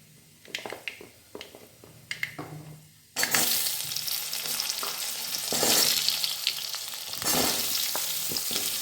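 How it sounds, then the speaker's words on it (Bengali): Vegetables, pumpkin among them, hit hot oil seasoned with asafoetida for a pumpkin and capsicum curry, first with a few light clinks and stirs, then a sudden loud, steady sizzle of frying with stirring. "এবার আমি সবজিগুলি এক এক করে দিয়ে দিচ্ছি।"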